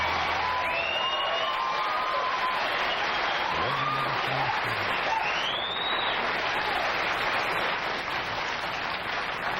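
Studio audience in a late-night television show, applauding and cheering in a steady, dense roar from start to finish, with whoops rising briefly above the clapping.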